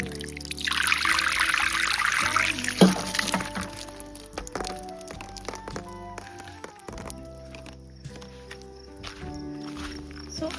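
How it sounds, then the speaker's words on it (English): Water pours into a container holding clear beads in a nature garden, a steady splashing trickle for the first few seconds that fades into softer dribbles under a faint tonal background. "I'm going to fill this up with some more water."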